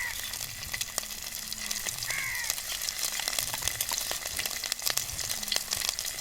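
Crushed garlic, ginger and green chili frying in coconut oil for a Kerala duck roast, a steady close sizzle with faint stirring scrapes and no voices.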